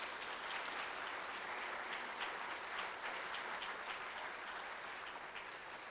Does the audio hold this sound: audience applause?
yes